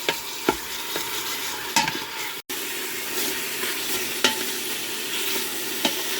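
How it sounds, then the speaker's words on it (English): Beef browns in an Instant Pot while being stirred for beef stew, giving a continuous close sizzle broken by occasional scraping strokes of the spoon against the pot. "You're going to want to stir it to brown on all sides."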